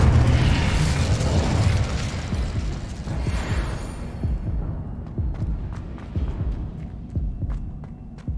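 A fiery Incendio spell blast in Hogwarts Legacy, a loud broad whoosh and burst that fills the opening seconds, then trails off into crackling embers and scattered clicks with a lingering rumble.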